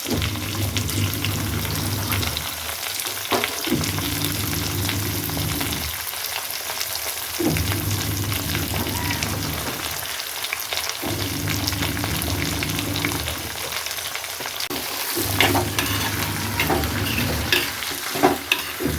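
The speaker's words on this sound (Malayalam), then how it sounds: "ഇത് നല്ലോണം ഇളക്കി മിക്സാക്കിയതിന് ശേഷം ഇതിലേക്ക് നമ്മുടെ ഉപ്പിട്ട് കൊടുക്കാം" Chopped taro, taro leaves, snake gourd, eggplant, shallots and tomato fry in a pan, with a loud, steady sizzle and rhythmic stirring scrapes that come and go.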